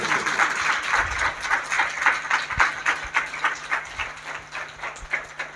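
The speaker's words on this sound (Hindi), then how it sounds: "जोरदार ताली बजाएंगे परमेश्वर के वचन के लिए" A church congregation claps loudly in a steady, rhythmic burst of applause that fills the room, with no talking over it.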